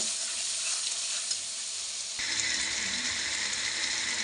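Chili powder masala sizzles hard in hot oil as it is sautéed in a pan, a dense, steady frying hiss with stirring that shifts in tone midway, no voices.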